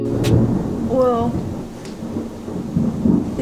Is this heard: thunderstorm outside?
yes